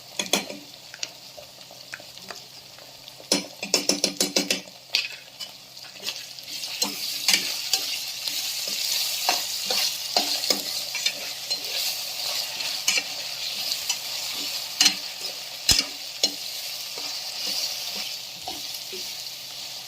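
Ginger garlic paste sizzles and fries steadily in a pan. Repeated stirring scrapes and clinks against the pan, with a cluster of quick clatters early on. No one speaks.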